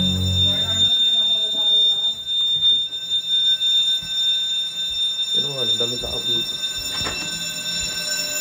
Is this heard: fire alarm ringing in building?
yes